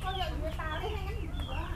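Chickens clucking in a backyard in Indonesia, a steady run of short nasal calls close by over a constant low hum, with people talking in the background.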